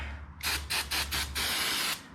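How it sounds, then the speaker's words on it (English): An aerosol can of electrical cleaner sprays onto a brazed radiator in several short hissing bursts, then one longer hiss, close up over a low background hum. "I'm spraying this with electrical cleaner just to get some of this coolant off"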